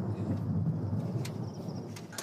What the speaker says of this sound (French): Je crois qu'on va se prendre un bel orage dans la tronche.